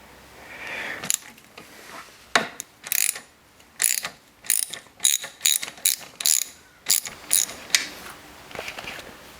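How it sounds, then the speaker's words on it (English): Socket wrench ratcheting on a slotted 3/8 bolt of a 1982 Johnson 9.9hp outboard, a series of sharp close clicking bursts in an irregular rhythm with short pauses, no talking. "I'm going to go with the socket because I trust myself more with it."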